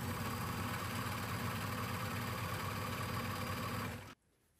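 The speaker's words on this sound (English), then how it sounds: "The last thing we'll do with the serger is finish the edge of the center front seam on both sides." A serger machine finishes the raw edge of a caftan's center front seam with a steady, dense mechanical whir that runs continuously and then stops abruptly, leaving near silence.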